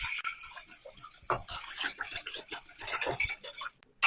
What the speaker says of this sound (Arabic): وغادي نبدا نحرك هادشي مزيان.